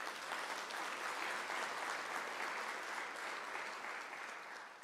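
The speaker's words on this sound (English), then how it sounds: "You must give yourselves a big hand of applause." Graduation ceremony applause at the University of South Africa, a broad steady roar of many hands clapping in a large hall, heard from a distance and fairly quiet, fading slightly at the end.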